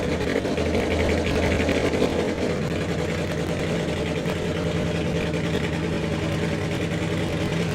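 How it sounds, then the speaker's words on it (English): A drag race car (a Toyota Supra doorslammer) idles at a high, steady rev, its loud continuous rumble unbroken throughout with no talking. "car does sound like it's idling quite high"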